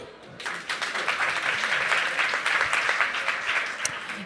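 An audience claps and applauds, the dense burst of clapping starting suddenly and continuing steadily throughout.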